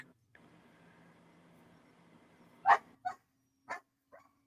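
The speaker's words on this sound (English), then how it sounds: "Dog's going nuts" A dog barks excitedly in a few sharp separate yaps near the end, after a quiet stretch of low indoor hum.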